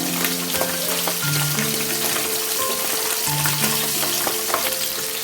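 Pabda fish frying in oil in a pan, a loud, close, continuous sizzle with bubbling crackles and faint tonal hums in the background, no voices.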